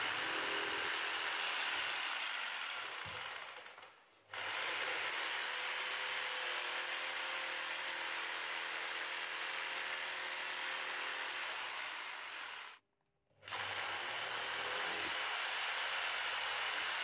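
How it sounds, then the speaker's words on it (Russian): A jigsaw saws through the plastic supports holding the magnet of a car door speaker from an Opel Insignia, the speaker clamped in a vise; a steady, loud buzzing drone runs continuously, broken by two brief pauses. "И с помощью лобзика выпиливаем стойки"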